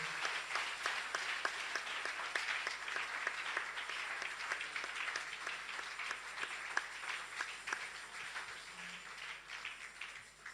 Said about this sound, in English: Stand to your feet, clap your hands